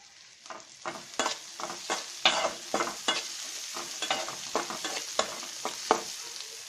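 Torn dried red chillies hit hot oil for a dried fish bharta, giving a close sizzle broken by a quick run of sharp stirring scrapes and spatters; no one speaks.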